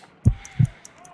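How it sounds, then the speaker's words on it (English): Two low, thudding heartbeats in the Sherlock Holmes: Crimes and Punishments video game, evenly spaced and close, with a soft ringing tone and faint chimes underneath. "Measure the pulse rate by counting the heartbeats for 10 seconds."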